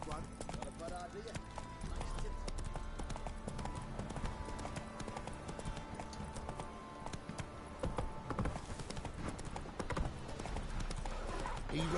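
Rhythmic clip-clop of a horse galloping in The Witcher 3: Wild Hunt, steady hoofbeats running throughout at moderate loudness under game music and a voice talking.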